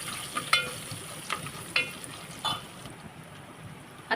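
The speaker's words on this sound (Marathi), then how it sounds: "तर छानपैकी तेलामध्ये परतून घ्यायचं आहे." Garlic and ginger sautéing in oil give a close, soft sizzle with several sharp spatula clicks and scrapes against the pan, spaced irregularly over a few seconds.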